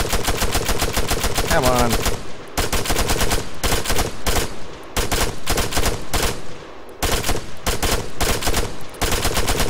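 Automatic rifle fire in Arma 3, fired from a prone position: long sustained bursts of rapid, loud shots with brief gaps between strings, and one voice calls out over the gunfire.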